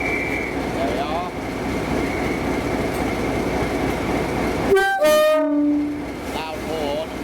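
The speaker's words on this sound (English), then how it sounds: "Loud horn." A heritage steam locomotive on the Kent and East Sussex Railway gives a loud horn blast after a stretch of steady station ambience, the sharp tonal burst sounding near and fading over a couple of seconds.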